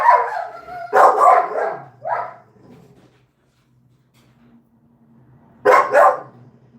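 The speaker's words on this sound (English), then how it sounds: "Dog sounds like a demon possessed." A dog at a vegan dog rescue lets out harsh, aggressive barks and growls up close in two bursts separated by a quiet gap with faint low snarling.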